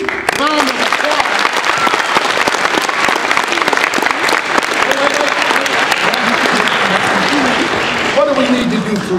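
A high school audience at an anti-bullying assembly breaks into loud, dense applause that fills the room, while a voice keeps talking over the clapping throughout.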